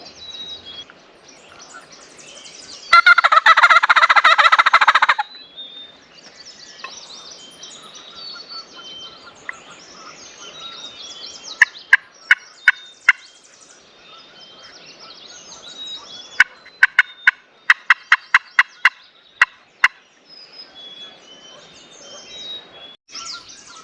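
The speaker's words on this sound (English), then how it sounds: "Dang, there's a bunch of turkeys over." Wild turkeys gobble in the distance in the woods, several bursts scattered through the clip, with one loud close burst of noise early on and sharp clicks later.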